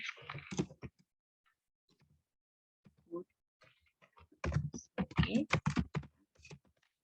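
Typing on a computer keyboard in Photoshop produces scattered soft clicks, then a faster burst of keystrokes, with a voice speaking quietly in between.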